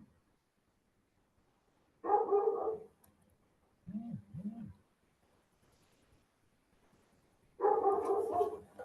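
A dog barks in three separate bursts with long quiet gaps between them. The barks are moderately loud and close, the middle burst is shorter and lower, and no one talks over them.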